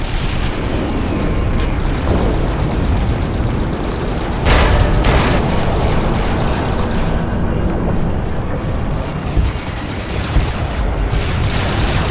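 A huge explosion tears through a tower in the game Fallout New Vegas, a dense continuous roar of blasts and crackling debris that stays loud and thick for the whole stretch, with no voices over it.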